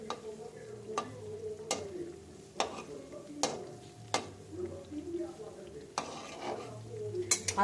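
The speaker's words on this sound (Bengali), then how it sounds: "আস্তে আস্তে আমি সবকটা বড়া এক এক করে ভেজে ফেলছি।" Medu bora lentil fritters frying in hot oil in a home kitchen, a low steady sizzle broken by sharp clinks of a utensil against the pan, close.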